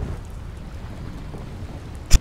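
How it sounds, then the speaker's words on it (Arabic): Steady hiss of rain falling in the video game Fortnite, soft and continuous, ending with a brief sharp crackle. "حظ الشو ما بتمطر غير فوق راسي."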